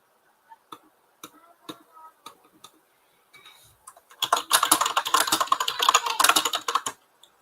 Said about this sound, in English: I can't type to save my life today.